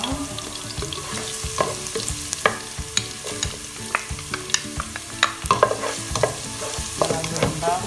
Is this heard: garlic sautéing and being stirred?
yes